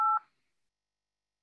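A single short telephone dialing tone from Zoom Phone sounds as one clear keypad beep, lasting about a fifth of a second before it cuts off into silence.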